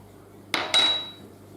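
A metal sieve gives two sharp, ringing taps close by while bicarbonate of soda is sifted for a banana pineapple cake, the second tap fading into a brief metallic ring.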